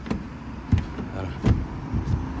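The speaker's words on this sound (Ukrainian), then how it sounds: "коли я закриваю, вона зараз дотягне вікно" A 2017 Audi A5 2.0 TDI power window closing automatically as the car locks, a soft motor whir with a few faint clicks and thumps, quiet and close.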